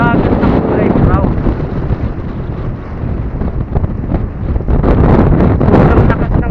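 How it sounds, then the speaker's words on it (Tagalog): Strong coastal wind on a seaside boulevard in Camarines Norte buffets the microphone in a loud, continuous roar with gusty surges throughout. "Sobrang lakas ng hangin."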